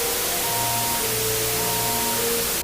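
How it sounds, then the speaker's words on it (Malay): Loud, steady hiss of car radio static fills the whole stretch, with faint tonal hums buried in the noise before it cuts out abruptly. "radio yang tengah elok-elok duk pasang lagu raya tiba-tiba senyap yang ada bunyi white noise"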